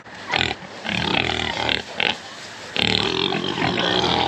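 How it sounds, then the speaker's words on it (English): Several pigs grunt and squeal close by in a continuous, noisy jumble, rising louder toward the end. "I do still have this crew of pigs here at the house"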